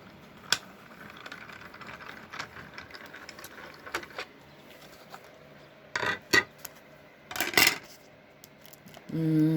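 A manual die-cutting machine cranked with adhesive sticker paper, giving scattered ratcheting clicks and clacks of gears, a few sharper knocks near the end, all close and without voices.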